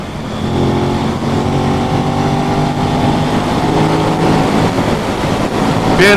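An Aprilia RS660 sport motorcycle ridden on a sunny day: a loud, steady engine drone heard up close throughout, swelling slightly near the end, with no talk.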